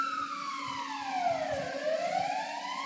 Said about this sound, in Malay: Tu bunyi kereta polis eh.